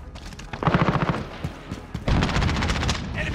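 Rapid automatic gunfire in a Call of Duty: Modern Warfare Domination multiplayer match, with loud bursts of close shots starting and stopping across the moment and game voice callouts faintly underneath.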